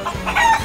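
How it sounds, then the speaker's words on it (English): A chicken gives a short burst of agitated clucks and squawks, loud and close, lasting under a second. "Stop, you scared the chicken."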